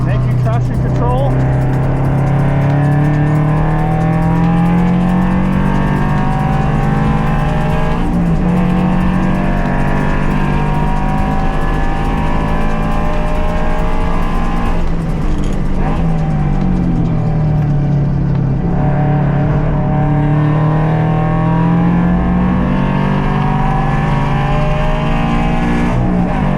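A Toyota GR86 and a Ford GT500 race on a track through corners, with a loud, continuous engine drone rising and falling as the cars shift and corner, close to the microphone.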